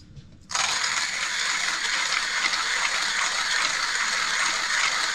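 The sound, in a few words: coffee beans grinding in a 1Zpresso hand grinder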